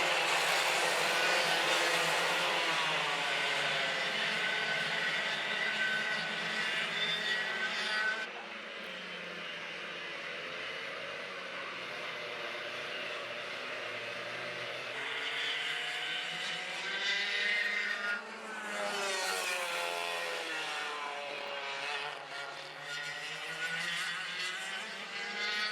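Race cars in a DRS125 series round at the Shenington circuit, probably 125cc karts, drone past in overlapping waves. The engine note rises and falls as they come through the chicane and fade away.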